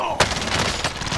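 Mac 10 submachine gun fire in a multiplayer video game, a sharp loud burst followed by a steady stream of rapid close shots.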